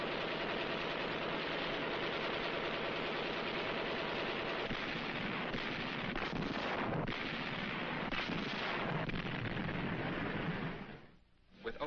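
Heavy naval shelling, bombing and rockets pound the island defenses of Okinawa, a dense continuous roar of blasts and rumbling fire that stays loud throughout before dipping briefly near the end.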